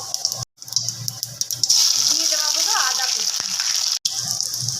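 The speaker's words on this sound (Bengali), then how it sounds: "কড়াইতে গরম তেলের মধ্যে দিয়ে দেওয়া হয়েছে গোটা জিরে ফোড়ন" Whole cumin seeds crackle and sizzle in hot oil in a wok, a steady bright frying hiss that stays close and loud for most of the stretch, broken by two brief silent gaps.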